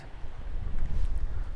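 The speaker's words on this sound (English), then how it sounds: "the wind is absolutely ridiculous today" Strong gusty wind gusting near 40 mph sweeps a lakeshore, a loud low rumbling buffet of air hitting the microphone in uneven surges, close and constant with no talk.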